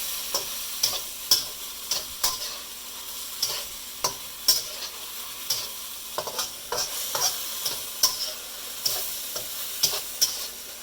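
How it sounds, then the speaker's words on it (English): Sauce thickened with cornstarch is stirred into stir-fried broccoli, a soft constant sizzle punctuated by regular knocking scrapes of a spoon against the pan, roughly one every second, close and alone. "Add that sauce in. And stir it in to make sure."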